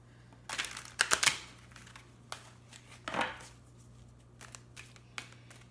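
Tarot cards being shuffled: soft, quick riffling and flicking bursts in short irregular clusters, close but quiet, with pauses between.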